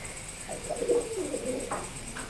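A pigeon coos softly nearby in a short, low, rolling call, with a faint steady hum in the background and no talking.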